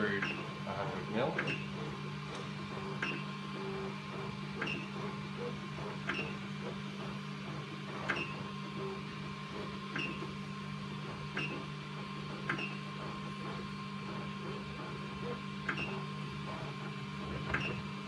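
A Creatbot 3D printer extrudes 100 mm of filament with a low, steady motor hum and faint regular ticking from the feed mechanism, quiet and continuous throughout.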